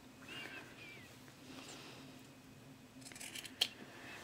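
Scissors snip through the fabric corners of a boxed-corner zipper bag, a single crisp cut standing out near the end over quiet room tone with faint rustling beforehand.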